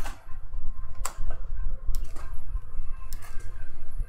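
Sharp mechanical clicks of bicycle gears shifting on an indoor smart trainer during a Zwift race, a few distinct ticks spread over the clip above a steady low whir of the trainer.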